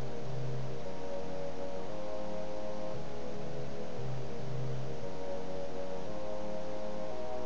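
Synthesizer preset playing a repeating minor seventh chord pattern: soft, steady pulsing chords cycling at a moderate tempo, alone with no voices.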